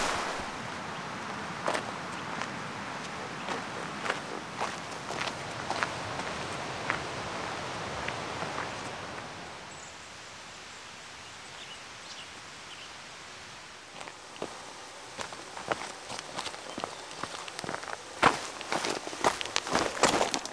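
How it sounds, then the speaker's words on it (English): Footsteps push through wet foliage on a mountain trail near a creek, with soft rustling and brushing of leaves in uneven steps, faint and close, quieter in the middle and busier toward the end. "this foliage that I'm walking through is wet"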